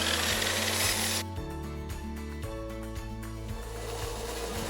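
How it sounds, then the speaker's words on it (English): A hand saw cuts through a wooden dowel rod, its blade wrapped in painter's tape at the cut point, giving a steady back-and-forth rasping stroke rhythm, close and fairly loud, with no talking. "And here I am cutting dowel rod to length."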